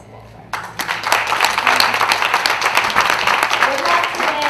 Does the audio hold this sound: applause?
yes